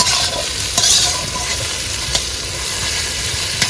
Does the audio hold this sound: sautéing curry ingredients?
yes